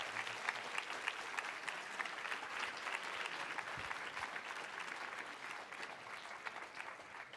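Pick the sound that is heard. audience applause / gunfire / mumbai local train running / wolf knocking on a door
audience applause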